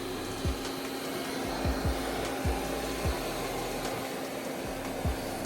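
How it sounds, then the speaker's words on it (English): A Roborock Saros 10 robot vacuum cleans with its main and side brushes, a steady whirring motor hum with repeated brief thumps and bumps as it moves across the floor. "For its first cycle, I chose vacuuming first, followed by mopping."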